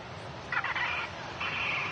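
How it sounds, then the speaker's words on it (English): A common gull distress call played over a speaker to scare birds away at Manchester Airport, heard as two faint, harsh calls in the distance against steady background noise. "that is the noise of a common gull"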